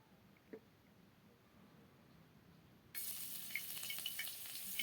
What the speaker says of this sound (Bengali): এই গরম কড়াইতে তেল দিয়ে দিলাম।